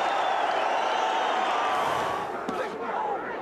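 Boxing crowd at a heavyweight fight between Cooper and Moorer roars in a steady wall of cheering that slowly eases, with a commentator's voice over it.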